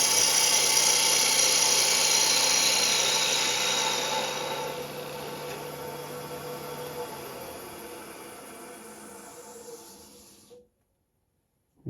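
Wood lathe with a parting tool cutting spinning wood, a steady loud hissing, whirring shave that slowly fades as the cut eases, then stops abruptly into silence.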